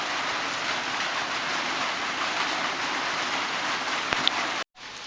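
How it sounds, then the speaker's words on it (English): Steady video game rain hisses continuously in the background, an even wash of noise with a brief dropout near the end. "as you can hear, there's rain in the background"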